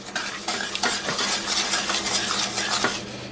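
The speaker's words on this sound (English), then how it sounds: "get your wooden spoon in there and start stirring" A wooden spoon stirs brown sugar in a pot for maple caramels, giving a steady, close scraping and rubbing sound with a few sharper knocks against the pan and no talking.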